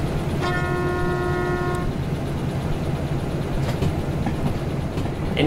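A train horn in the train simulator game Derail Valley gives one steady, tonal blast of about a second and a half, sounding over a continuous rumble of rolling rail cars.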